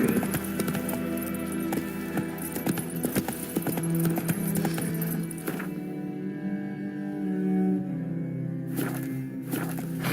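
A horse's hooves clopping in a quick steady rhythm in The Witcher 3, close and prominent over game ambience, easing off toward the end.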